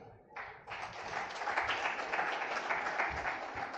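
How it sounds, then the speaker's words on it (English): A conference audience at a fintech event in Uganda breaks into sustained applause that swells after a brief start and continues evenly at moderate distance. "can we give her a big clap?"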